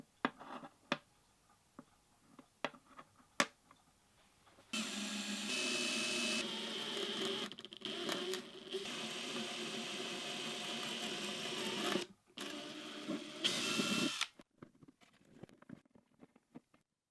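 A power drill boring string holes through a wooden ukulele bass bridge, a steady whirring motor run for several seconds with a brief pause, surrounded by quiet clicks and handling taps.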